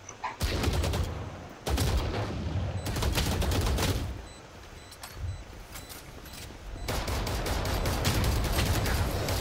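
Rapid bursts of gunfire from the Valorant shooter game crack out in dense volleys, stopping briefly and then starting again, loud and close, with no speech over them.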